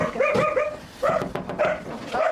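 A dog barks repeatedly in short bursts, close by, with a few whiny yips mixed in.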